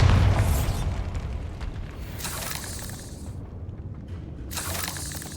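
The Bombarda blasting spell in Hogwarts Legacy going off as a heavy boom with a deep rumble, then fading crackling debris and a couple of lighter bursts later on.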